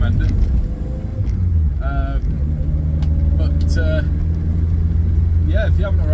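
A car fitted with a homemade exhaust drives along, its engine giving a steady, loud, close rumble that holds from start to finish, with brief higher noises rising over it now and then.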